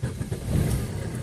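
A car engine revs faintly as the vehicle begins to pull away, a brief, slightly uneven mid-pitched rumble heard from a short distance.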